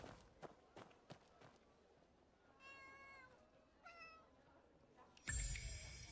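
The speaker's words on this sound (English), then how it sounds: "Now there's a meow, meow, meow, meow, meow, meow I keep hearing." A cat in the Where Winds Meet game meows twice in drawn-out, tonal calls, moderately close, over soft background ambience and a few light thumps, before a loud burst of noise at the end.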